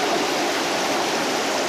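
A stream rushes steadily through a valley of small-leaved alders on Cyprus, giving a continuous broadband watery roar, close and even, with no voices.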